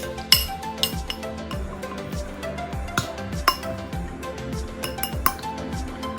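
Shrimp marinade with Chinese cooking wine and cornstarch is stirred in a bowl, a utensil clinking steadily against the dish in a brisk rhythm of close, light taps.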